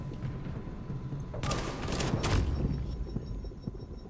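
Video game gunfire aimed at an enemy's head sounds as a short, loud burst of rapid shots in the middle, framed by quieter background game noise before and after.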